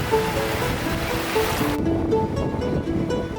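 Sea waves washing onto the beach at Cox's Bazar, a broad continuous roar of surf, loud and close, with some wind noise.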